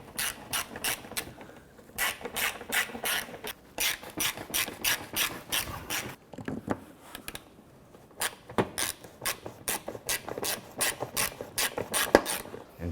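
A ratchet drives screws into the front bumper lip of a 2006-2013 Chevrolet Impala, producing repeated close bursts of quick, sharp clicks with short gaps between strokes.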